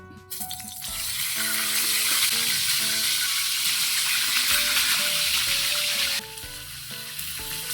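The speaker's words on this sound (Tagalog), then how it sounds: "Prito tayo ng tilapia." Tilapia fries in hot oil with a loud, continuous sizzling hiss, while light background music plays throughout.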